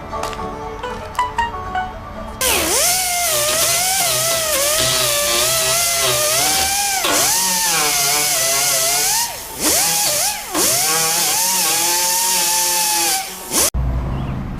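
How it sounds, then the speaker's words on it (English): Angle grinder with a 40 or 60 grit disc grinding rust off the body of a 1968 Impala, loud and close, running steadily with pitch dips as the disc bites and eases for about eleven seconds before cutting off; no talk. "Still got a little bit of grinding to do."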